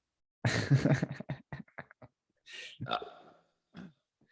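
A few loud, gurgling burps break out close by, with choppy bursts and pauses between them, then trail off into quieter grunts.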